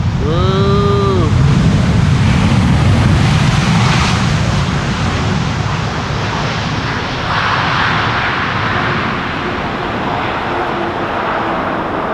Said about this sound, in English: Well, the landing was pretty, and she was crabbing and battling the wind.